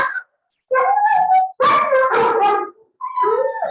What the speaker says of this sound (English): Excuse the puppies.